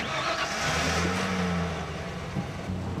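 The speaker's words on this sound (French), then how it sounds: "il pouvait faire un tour dans le camion personnel de Dave" A personal truck's engine revs steadily and loudly from a close position, a continuous mid-range drone that swells and eases slightly over a few seconds with no voices.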